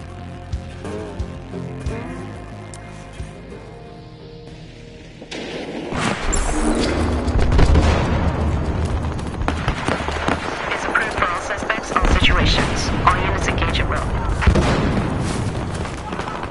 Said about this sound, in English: police and alleged criminals exchange gunfire in a dangerous, unstable environment